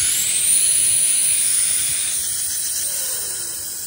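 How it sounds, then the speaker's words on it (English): Nitrogen purging through an LG mini-split's copper refrigerant line makes a steady, close, high-pitched hiss that fades slowly, with no talk over it. "We'll purge with nitrogen, and then we'll flow nitrogen"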